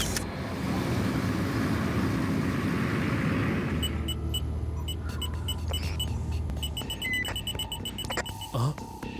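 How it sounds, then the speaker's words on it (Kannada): A small plane engine in a cartoon drones steadily as a loud, continuous mechanical rumble with a sustained low hum, and brief electronic beeps join in toward the end. "ಯಾವ್ದೋ ಚಿಕ್ಕ ವಿಮಾನ ನಮ್ಮ ಹಿಂದೆನೆ ಬರ್ತಾ ಇದೆ."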